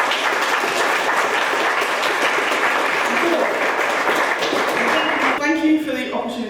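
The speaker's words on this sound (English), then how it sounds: "So perhaps a little round of applause for them." A conference audience applauds, a dense, even patter of many hands that carries on for several seconds before a speaker starts talking as it fades.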